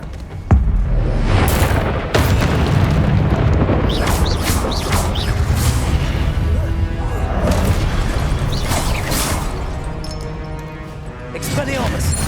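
Confringo explosive spell in Hogwarts Legacy: a sharp loud boom at the start, then further crashes and blasts through busy combat, with a voice calling out spells.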